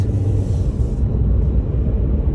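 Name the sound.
hurrying vehicles passing on road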